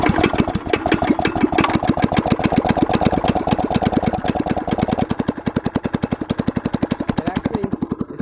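Stock engine on a Black Widow go-kart, running a bit lean, revs hard and steadily with a rapid pulsing firing rhythm, then drops to a slower chugging idle near the end, loud and close with no talk.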